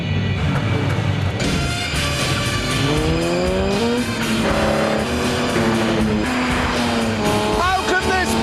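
An Aston Martin DB5 races a new 2.4-litre Honda Accord, with loud, constant engine roar and rising gear-change whines, brief tire squeals, and a voice talking over the noise.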